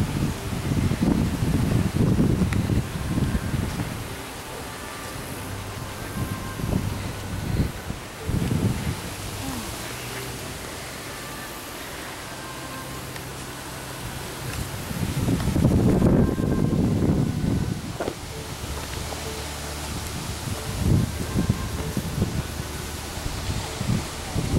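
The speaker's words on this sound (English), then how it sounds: "Strong wind." Strong wind gusts sweep through trees in a Japanese garden, with leaves rustling loudly in two big surges and a calmer, steady hiss between them, all with mic wind buffeting.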